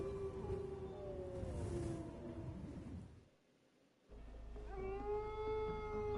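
Wolves howling in Metal Gear Solid 2, several long wavering tonal howls overlapping in a chorus, pausing briefly, then resuming with a low rumble beneath.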